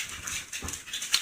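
Restless dogs whimper and whine at close range, short breathy cries coming in uneven bursts with a small yip near the end.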